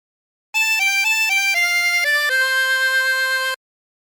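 A harmonica plays a short melodic phrase of For He's A Jolly Good Fellow, a handful of clean sustained notes stepping up and down before a long held final tone, solo and close.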